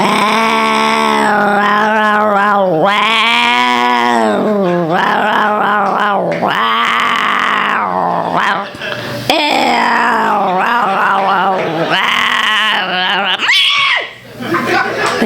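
A comedian on stage imitates a male cat's growling response with a long, loud, voiced yowling and snarling that rises and wavers for about fifteen seconds, dipping briefly near the end.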